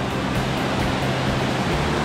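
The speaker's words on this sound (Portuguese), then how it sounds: "Olha que linda essa segunda cachoeira" Salto do Tigre, the second waterfall in Matinhos, Paraná, roars as a steady, broad wash of falling water, loud and continuous, with no talk over it.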